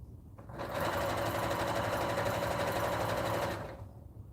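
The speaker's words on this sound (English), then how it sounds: "this is solely like my blanket machine and I love it so much. It's super smooth." A 10-needle embroidery machine stitches a blanket at a steady, fast, smooth whir that starts up, runs continuously for about three seconds and winds down, loud and close with no talking.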